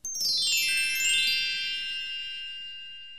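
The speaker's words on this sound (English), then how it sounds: "You'll know it's time to turn the page when you hear the chimes ring like this." Chimes ring as a page-turn signal in a read-along storybook, a bright cascade of struck tones that settles into a clear, lingering ring slowly fading away.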